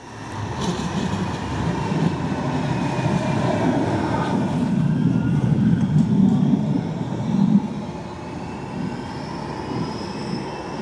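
A Manchester Metrolink tram on the Bury Line travels steadily, a continuous rumbling roar of wheels on rails that eases slightly near the end, with no talking.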